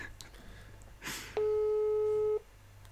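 A telephone busy signal sounds after a call is cut off: a few soft clicks and a brief rustle, then a single steady electronic tone for about one second before it stops, fairly quiet over a low background hum.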